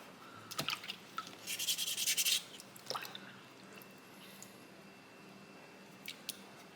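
Wet sanding and rinsing a small soapstone owl carving over a water bucket, with drips and a dense burst of gritty scrubbing, then scattered quieter rubs and splashes nearby.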